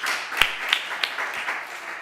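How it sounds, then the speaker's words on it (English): Applause from an audience at a hearing in Berlin, a soft continuous wash of many hands clapping with a few sharper, nearer claps standing out. "a big applause for them"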